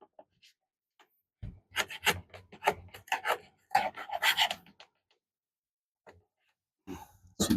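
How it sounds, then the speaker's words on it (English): A chisel scrapes and pares a raised wooden edge on a deck box in a shop, producing short bursts of rasping strokes in quick clusters, close and fairly loud, separated by quiet pauses. "See if we can chisel that. Now we're gonna chisel."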